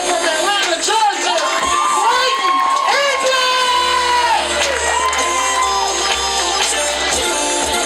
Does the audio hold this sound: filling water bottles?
no